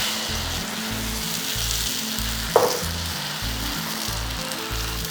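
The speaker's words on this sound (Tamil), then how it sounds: "பாருங்கள், தோசை ஊற்றி இந்த மாதிரி கொஞ்சம் நல்லா தேய்ச்சி விட்டுக்கோங்க" Dosa batter sizzling on a hot oiled griddle, a strong, continuous hiss close up with one short scrape of spreading partway through, over a steady low rhythmic hum in the background.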